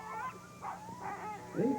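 Sled dogs from an 18-dog Iditarod team at the ceremonial starting line in Anchorage yip and whine in short, excited bursts, moderately near, over a low background murmur.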